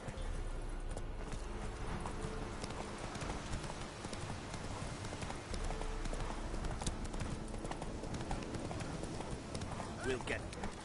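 A horse trots in The Witcher 3, its hooves keeping up a continuous, even clip-clop that runs under game voices and ambient noise.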